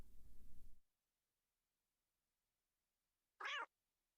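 A single short cat meow from the video game Game Builder Garage, heard alone after a stretch of silence, brief and fairly bright, following an opening burst of low rumbling sound that cuts off early.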